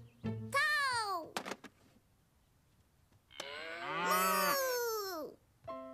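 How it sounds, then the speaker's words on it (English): A cartoon cow gives two long, loud moos with strong harmonic bands, the first short and the second drawn out, separated by a quiet gap with a brief thump. "Cow!"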